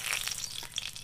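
Dry red chillies and cumin sizzling in hot mustard oil, a close hiss with bright crackling pops, short and fairly quiet, and no talking.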